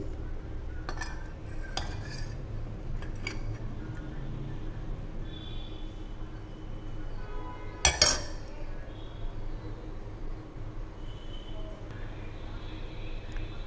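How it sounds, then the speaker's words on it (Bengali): A spoon stirs two spoonfuls of yogurt into ground rice batter for palak idli, giving soft scraping and occasional clinks against the bowl, with one sharper clink midway, over a steady low kitchen background. "2 চামচ দই মিলাচ্ছি"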